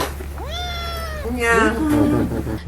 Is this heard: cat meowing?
yes